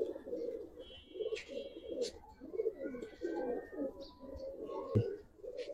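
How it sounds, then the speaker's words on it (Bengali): Pigeons of an old-generation colour breed coo repeatedly in low, rolling phrases, close by and fairly steady, with faint chirps and other birds in the background and no talking. "দর্শক একটা সুন্দর কবুতর দেখাই"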